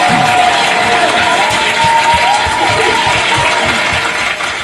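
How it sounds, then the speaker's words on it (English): Cheering and clapping from a crowd in Nairobi, a steady loud wash of applause with scattered whoops and shouts running throughout. "I'm gonna give my guy a round of applause"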